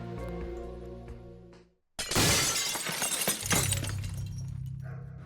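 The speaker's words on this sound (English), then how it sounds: "Someone had thrown a brick and smashed the window in front of me" A brick smashes through a window in a Minecraft horror map, a sudden loud shatter after a brief silence, with glass crashing and scattering for over a second before a low drone returns.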